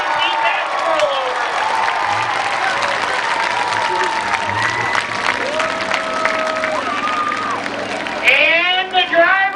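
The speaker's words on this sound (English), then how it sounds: "you need to get on your feet and give that boy a round of applause" A speedway crowd at a night destruction event applauds and cheers after a car rollover, steady dense clapping mixed with shouts for the whole stretch, swelling louder near the end, with voices over the din.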